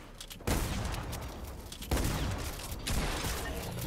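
Gunfire in a shooter video game: dense, sustained bursts of rapid shots that stay loud throughout, with brief gaps between volleys and no voices.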